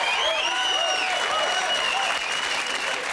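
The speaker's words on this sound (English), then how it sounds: "A big round of applause for MC Hammer." A studio audience at a comedy variety show claps steadily for about three seconds, a dense, even wash of applause with light cheering and whistles mixed in.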